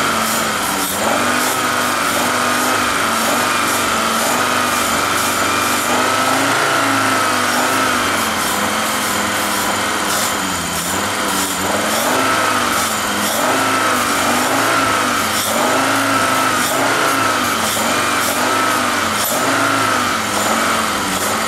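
A car engine revving repeatedly while its throttle body is being cleaned, loud and close, with rising and falling pitch sweeps and sharp intermittent clicks across about twenty seconds, no speech.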